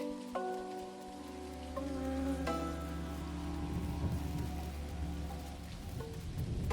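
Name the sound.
rain in the video game Dinkum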